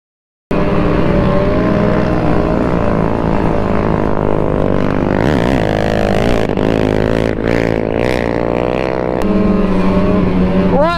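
Snow bike engine out in deep snow, a loud, near revving motor that climbs and drops in pitch with sharp surges and scraping clatter midway, continuous throughout.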